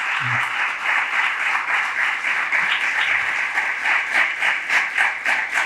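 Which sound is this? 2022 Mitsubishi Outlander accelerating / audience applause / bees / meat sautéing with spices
audience applause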